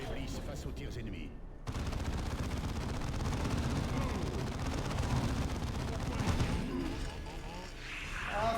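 Enemy gunfire in the Dawn of War 2 video game, dense rattling bursts of automatic fire and blasts that continue steadily and loudly, with a voice talking over the battle.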